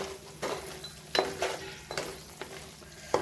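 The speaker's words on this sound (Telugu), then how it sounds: "చికెన్ పీసెస్ పెట్టేద్దాం, ఇందాక ఫ్రై చేసినవి." Fried chicken pieces sizzle quietly in a pan with chili and garlic while being stirred, with a steady hiss broken by several sharp scrapes and clinks of a spoon against the pan.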